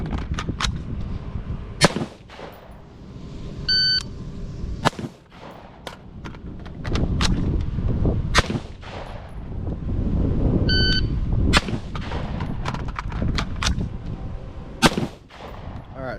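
Repeated sharp gunshots from an IWI Tavor X95 rifle during reload drills, fired in irregular bursts of single shots with gaps between strings, loud and close, with a couple of brief electronic beeps in between.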